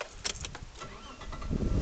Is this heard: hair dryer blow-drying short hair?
no